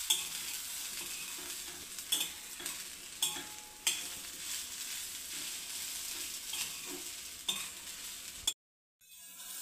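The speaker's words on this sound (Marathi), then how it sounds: "आता आपण 2-3 मिनटं चांगला असा परतवून घेऊ बघा" Crumbled leftover bhakri sautéing in a pan, a steady close sizzle with scattered sharp scrapes and taps of a spatula stirring, ending in a brief silence.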